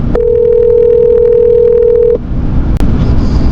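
A telephone line gives a loud, steady dial tone for about two seconds before a call is placed. It then stops, leaving background hiss and a brief sharp click.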